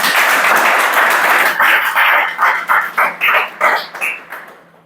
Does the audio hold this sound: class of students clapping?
yes